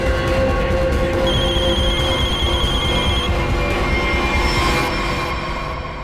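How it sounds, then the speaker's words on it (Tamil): A telephone rings in an office, an electronic tone carrying over a loud continuous rumbling bed of noise. "போன் அடிக்குது"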